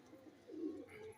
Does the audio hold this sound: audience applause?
no